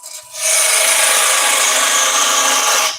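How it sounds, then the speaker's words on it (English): A bowl gouge cuts a spinning wooden bowl on a lathe in one loud, steady, hissing scrape that starts abruptly and runs almost three seconds before stopping. "I'm largely just using the bowl gouge to create a shape here"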